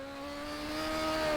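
Oval-track Legend car engine in the rFactor racing game, a steady harmonic drone that rises slightly in pitch and loudness as it accelerates, heard alone without talk.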